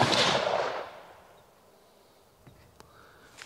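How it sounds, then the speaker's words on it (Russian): A single rifle shot, .308 Win or 6.5 Creedmoor, fired at foam blocks 100 metres away: a loud sharp blast at the start that decays over about a second, followed by a few faint distant cracks and quiet. "Выстрелим в блоки, в пеноблоки, которые у нас стоят на дистанции 100 метров."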